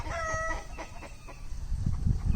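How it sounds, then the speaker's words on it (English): Several roosters crowing in the evening, one clear harmonic crow early on with other fowl calls and clucks scattered around, some nearby and some farther off, over a low rumbling background. "That's a rooster, and that's a rooster, and there's a rooster down there"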